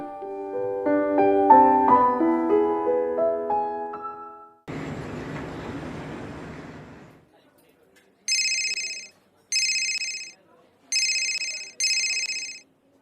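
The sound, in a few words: mobile phone ringtone from a missed call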